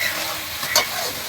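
Mutton and country chicken cooking on a clay stove give a steady close sizzle and frying hiss, with a brief stirring scrape near the middle and no talk.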